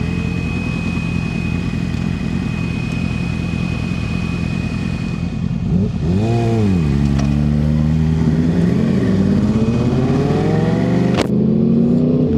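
A go-kart engine on an outdoor kart track, droning steadily then rising and falling in pitch as it revs through corners and accelerates, loud and close with a constant buzzing mid-range tone.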